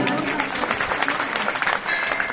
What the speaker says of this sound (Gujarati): એકવાર તમારા બધા માટે જોરદાર તાળીઓ.